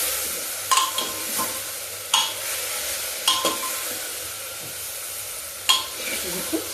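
White brinjal stir-fried in a pan, with a steady sizzle under sharp scraping strokes of a spatula every second or two, close and moderately loud.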